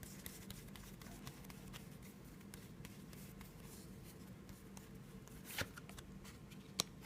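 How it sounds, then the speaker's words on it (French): Tarot cards are shuffled and handled at close range, a soft continuous riffling with faint papery taps and an occasional sharper snap as a card is drawn. "On va tirer une seconde carte pour voir comment on va le vivre."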